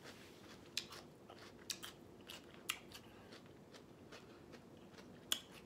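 Crunchy celery dipped in ranch dressing chewed close to the mic, a series of sharp crisp bites and crackling crunches spaced irregularly over quiet, softer chewing between.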